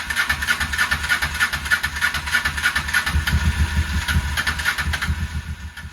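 A Honda NTV 650 motorcycle with an empty fuel system, unstarted for seven years, cranks repeatedly in a loud, rapid, rhythmic chug close by, the engine catching briefly but not running on its own.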